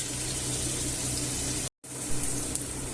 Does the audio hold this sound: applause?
no